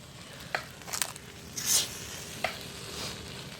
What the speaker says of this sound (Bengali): ফ্রাইড রাইস বানাচ্ছে